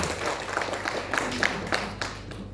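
An audience at an Indonesian education meeting applauds in a hall, with scattered, uneven claps over a low room hum that loosen and thin out after about two seconds.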